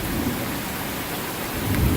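A severe thunderstorm in Newburg, Pennsylvania brings steady heavy rain hissing across the surface, with low rumbling thunder swelling underneath toward the end.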